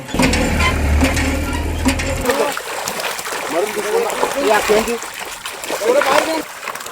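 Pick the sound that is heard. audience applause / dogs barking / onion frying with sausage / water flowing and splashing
water flowing and splashing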